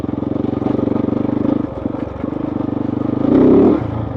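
Kove 450 Rally motorcycle engine running steadily as the bike is ridden, a close, continuous droning rumble with a brief dip near the middle and a louder surge of throttle toward the end.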